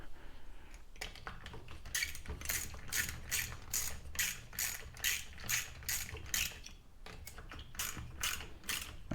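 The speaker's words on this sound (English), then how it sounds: "And then we'll just go ahead and tighten these nuts down" A ratchet with a 10mm socket tightening carburetor nuts on a Homelite Bandit SX-135 chainsaw, rapid repeated clicking in quick bursts of strokes, close and clear, with no talking.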